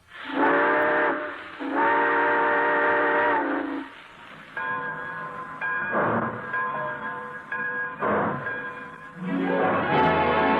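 A departing steam train's whistle blows several long, loud blasts in a row, each a sustained harmonic tone separated by short gaps, with rumbling in between.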